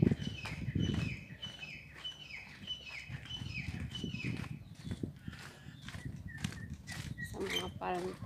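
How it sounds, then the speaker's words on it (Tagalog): Many birds sing and chirp around a heritage village on a quiet hillside in Hatta, with repeated short whistled calls over footsteps and faint background noise. "Tahimik dito, maraming mga ibon"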